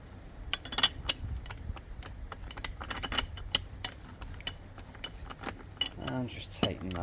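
Metallic clicks and clinks of a ratchet tightening a bolt during fork service on a Kawasaki ZXR400 motorcycle, in irregular close bursts with a rapid ratcheting run near the end.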